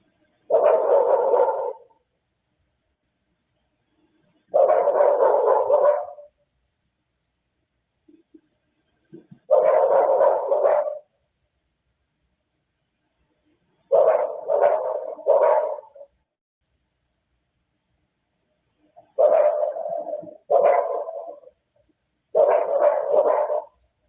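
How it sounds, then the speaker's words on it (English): A dog yelping in distress in six sharp, separated bursts of rapid yelps spread over the span, fairly loud against near silence, with no talk. "This dog is in active"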